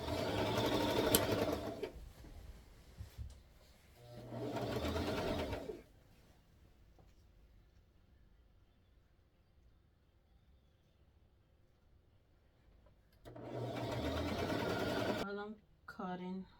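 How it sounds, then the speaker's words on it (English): Sewing machine stitching a ruffled tutu anklet for a child's Barbie-themed birthday outfit, running in three loud bursts separated by quiet pauses, with a short rapid stitch burst near the end. "So now I'm gonna go ahead and start sewing this"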